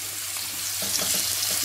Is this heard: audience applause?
no